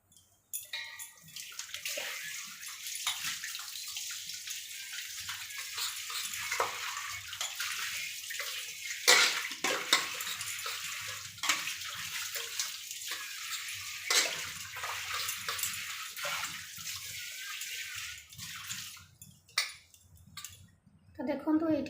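Steel utensils are washed with cleaning powder under running water: steady splashing and rinsing with occasional clinks of metal dishes, while someone talks intermittently over it.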